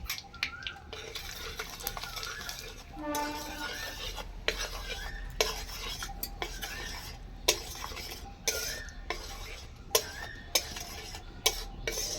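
Turmeric being stirred into hot ghee in a pan: repeated scraping and clinking strokes of a spoon against the pan over a soft sizzle, moderately close, with no clear talking.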